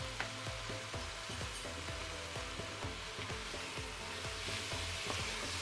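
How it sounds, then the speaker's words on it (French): Chicken browns in a pan with a constant close sizzle and frying crackle, broken by faint scraping stirs, with no talking. "On continue à faire dorer quelques minutes."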